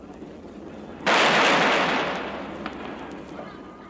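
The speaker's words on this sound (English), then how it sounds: "we hear an echo of history as the noonday gun booms across the harbor" Hong Kong's noonday gun fires a single loud boom across the harbor, and the blast decays into a broad rumbling echo over a couple of seconds.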